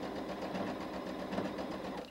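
A sewing machine zigzag-stitching a blind hem, a close, steady, fast mechanical whir and chatter that holds an even pace throughout.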